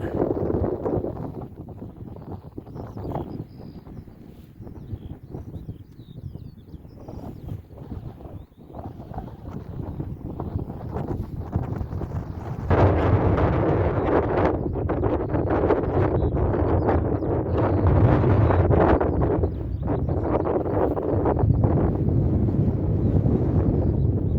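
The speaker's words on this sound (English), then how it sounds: "A bit windy up here." Strong wind buffets the microphone on a hilltop on the South Downs overlooking the ocean, a continuous roar that grows louder partway through, with no voices heard.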